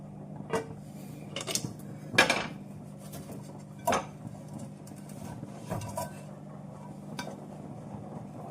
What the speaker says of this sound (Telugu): ఒక ప్లేట్ని దీని మీద బోర్లింగ్ చేసి దీన్ని ఇప్పుడు రివర్స్ చేసేసుకుందాం